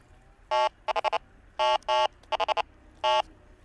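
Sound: electronic fishing bite alarm beeping

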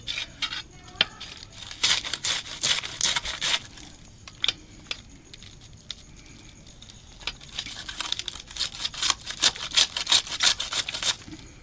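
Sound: knife slicing cabbage for fritters

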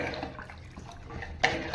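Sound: water being poured into a pot for millet payasam

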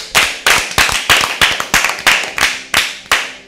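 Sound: audience clapping for team A in a quiz

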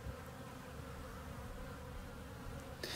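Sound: bees buzzing in observation hive

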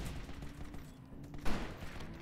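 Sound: gunshots in a free-to-play shooter video game

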